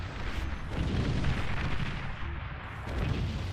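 Naval ships bombard a base in the strategy game Beyond All Reason, a dense, continuous rumble of distant artillery blasts and booming impacts rolling on without pause.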